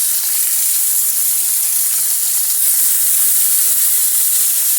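Halibut fillets searing in a hot pan: a steady, loud, hissing sizzle with no pauses, close up, spitting and crackling softly throughout with no voices.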